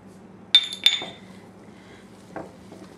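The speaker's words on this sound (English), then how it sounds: "So I'm just gonna cream these with 1/4 cup of sugar." Softened cheese is creamed with sugar in a bowl using a wooden spoon, giving a couple of sharp clinks and scrapes close by, then a quieter knock against the bowl amid soft background hum.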